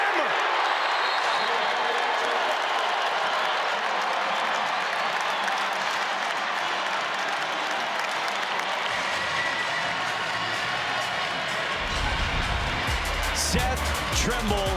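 Crowd at a college basketball game in Chapel Hill, North Carolina vs Georgia Tech, roaring and applauding in a sustained, loud wash of cheering as a commentator talks over it.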